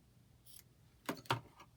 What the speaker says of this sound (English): We just need a little snip off the corner.